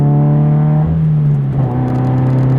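Subaru BRZ engine humming steadily with a small rev-match blip as clutch and throttle overlap during a manual downshift, loud and close, with pitch shifting briefly midway.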